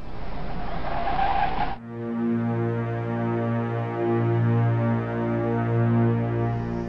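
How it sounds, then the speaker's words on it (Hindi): A car slows and comes to a stop, its engine settling into a steady low idle hum after a brief burst of road and tire noise at the start. "ड्राइवर, यहाँ प्लीज गाड़ी रोकिए।"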